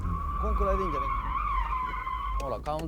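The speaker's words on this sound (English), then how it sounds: "See, I countersteered and stopped the car facing the direction I want to exit." A car drifting through a handbrake turn with countersteering, its tyres giving a loud, sustained high-pitched squeal over engine noise for nearly three seconds.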